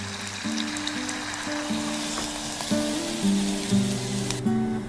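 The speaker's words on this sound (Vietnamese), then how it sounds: "Mình chiên tôm với lửa vừa nha các bạn." Steady, soft sizzling and crackling of breaded shrimp deep frying in oil over medium heat continues throughout, with a low background hum and tones.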